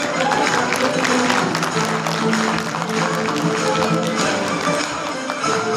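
Audience applause for the teachers at a kindergarten year-end show, a dense, steady wash of many hands clapping from a large crowd with music or a tone running faintly underneath, sustained without a break.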